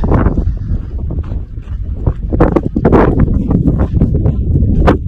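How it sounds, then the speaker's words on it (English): Strong wind roars and buffets against the microphone in heavy, uneven gusts on a cold Pacific Crest Trail evening between Santiam Pass and Government Camp, with no voices. "It's 51 degrees and the wind is just howling."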